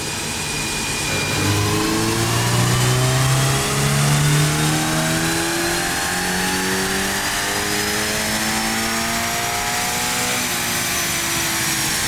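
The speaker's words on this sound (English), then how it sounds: "It's so weird seeing my car rolling without me driving it." A Subaru BRZ on a dyno revs hard, its engine climbing in pitch to a loud peak and then winding down with a long falling whine as the rollers spin down, close and alone without talk.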